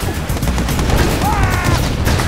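Dense, loud gunfire and explosions crackle continuously in a battle in the real-time strategy game Mental Omega as an ore miner comes under attack, with a short rising whine partway through.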